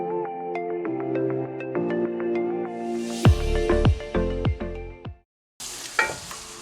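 Onions fry in a pan for a Ghanaian spinach stew, with sizzling and sharp clattering stirring strokes over steady background music that briefly cuts out near the end.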